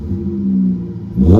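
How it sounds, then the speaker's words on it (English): A V6 Chrysler 300 with resonator delete and MagnaFlow muffler revs up briefly, a deep close exhaust rumble that swells at the end. "in this video I'm going to show you how you can make your Chrysler 300 sound like this"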